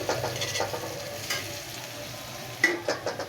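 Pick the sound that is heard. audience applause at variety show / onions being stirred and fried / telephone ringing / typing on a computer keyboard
onions being stirred and fried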